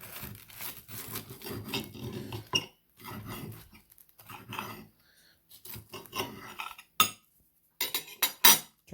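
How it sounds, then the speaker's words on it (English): A knife cuts diagonally through a ham and cheese toastie, giving a run of close, dry rasping crunches in short bursts with brief pauses, ending in a few sharper scrapes. "So you're just gonna slice it diagonally because it tastes better that way"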